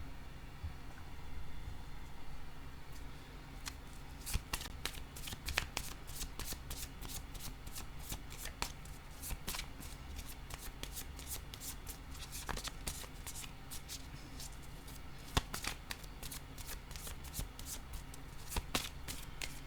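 Playing cards are shuffled and laid out, producing a quiet, continuous run of rapid riffling snaps and soft slaps that come in irregular bursts throughout, close to the listener over faint background hiss.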